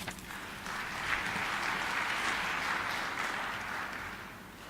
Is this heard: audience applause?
yes